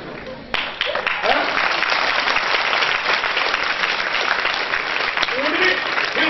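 A seminar audience at a school in Pachkodia, Jaipur, claps steadily and loudly throughout, a dense wash of hands with a voice faintly over it.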